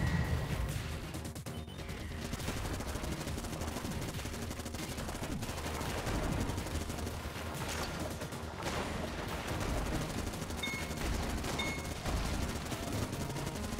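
Sustained rapid gunfire from the dark, heavily modded video game Enter the Gungeon, a continuous stream of shots and crashes filling the whole stretch at moderate level.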